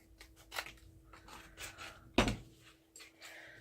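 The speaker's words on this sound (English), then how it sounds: "we're going to take this piece and we're going to trim it to fit over here." Scissors trim a craft piece for a Christmas tag project, giving a few quiet snips and rustles, with one sharper cut standing out, in a quiet room.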